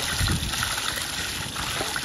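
Spring water from the Kachura springs in Skardu flows in a steady, close gush and trickle, a continuous broad wash of running liquid with no voices.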